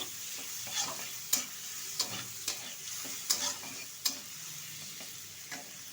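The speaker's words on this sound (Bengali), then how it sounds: "আর এদিকে কিন্তু চিংড়ি মাছগুলো ভালো করে দিয়ে পরিষ্কার করে রেখে নিয়েছি। এখন হালকা করে একটু ভেজে নেব।" Cleaned prawns fry lightly in a pan with a soft, steady sizzle, while a utensil stirs and scrapes them in several sharp, close clacks spaced about every second.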